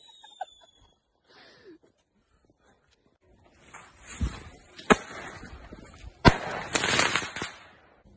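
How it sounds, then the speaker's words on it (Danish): A firework rocket with a whistle and a chain of salute bangs whistles up, then sharp cracking bangs burst one after another, loud and close, with whistling hisses between them. "så har vi en raket, hvor at der er bang hele vejen op igennem kanonslag, og så er der hyl"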